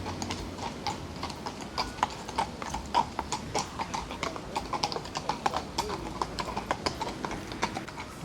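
Police horses walk along a street in Paris, their hooves sounding a close, steady clip-clop of sharp, regular strikes over faint street background.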